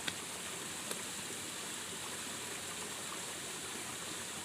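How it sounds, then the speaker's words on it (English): Stream running through a wooded valley clough near old mill ruins at Hebden Bridge, a steady broadband rush of flowing water, fairly faint and continuous, with no voices. "it does mostly look like it's just a stream flowing through the valley"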